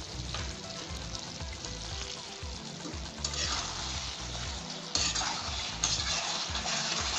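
Chicken frying in a pan with garam masala gives a steady, close sizzle and crackle, with occasional stirring and scraping against the pan and no talking.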